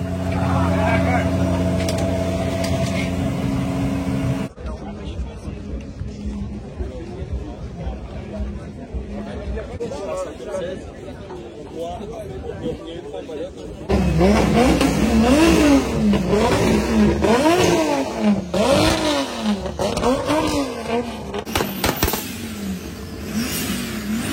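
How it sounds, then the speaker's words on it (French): A drift car's engine warms up and revs at a drift championship final, rising and falling in pitch with loud bursts in the second half, over crowd chatter and nearby talking. "faire chauffer le moteur"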